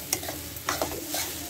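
Carrot halwa is stirred in a pan, with several quick scraping strokes over a light sizzle, close and clear with no voices.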